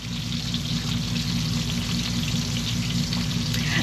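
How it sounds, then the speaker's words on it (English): Bacon crackles and sizzles steadily in a pan, a close, continuous hiss with scattered pops and a low hum underneath. "y'all might like the sizzling of the bacon"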